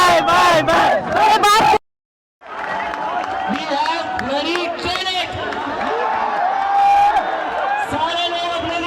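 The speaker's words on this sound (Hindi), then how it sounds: "लगातार नारेबाजी हो रही है, जश्न मनाया जा रहा है" Crowd of young people chanting slogans and celebrating the resignation of minister Dharmendra Pradhan; loud, close shouted voices, a brief cut to silence, then a rowdy mass of cheering and chanting.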